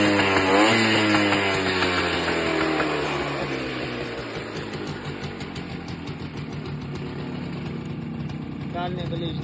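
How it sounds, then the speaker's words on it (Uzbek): A motorcycle engine runs loud and close, revving high at the start, then settling into a lower, steady drone with a slight rise near the end, with no voices over it. "Ko'p mototsikl katta oborotda bildiradi"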